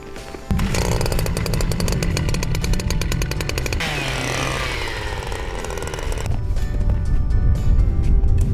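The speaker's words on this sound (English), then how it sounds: "Time to drill holes." A loud motorized auger whines and grinds steadily while drilling holes in ice, its pitch shifting as it bores down, running close and continuous.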